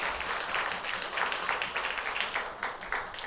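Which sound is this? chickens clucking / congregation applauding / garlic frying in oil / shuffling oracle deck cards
congregation applauding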